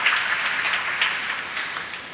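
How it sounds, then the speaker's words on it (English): An audience at a global summit session claps steadily. The dense, even applause carries a few louder swells and fills the room with no voices over it. "So a big round of applause"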